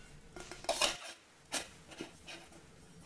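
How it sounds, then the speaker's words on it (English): Metal pots from a Mil-Tec camp cookset are set down onto their stand, making a few close, sharp clinks and rattles spread over a few seconds in an otherwise quiet setting. "And then your pots just sit on top there, nice and easy."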